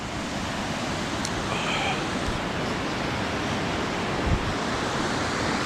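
A creek flows outdoors in a steady, broad wash of rushing water that fills the whole clip at moderate level, with no talking.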